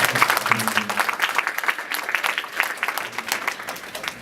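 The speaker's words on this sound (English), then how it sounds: "So let's give her a round of applause for that." Audience applause at a Black History essay contest ceremony in Steelton-Highspire, a steady, dense clapping from a roomful of people that carries on evenly throughout without dying away.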